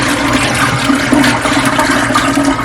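Brine is strained from chicken in a continuous loud rush of pouring water, a steady gushing stream close by with no talk.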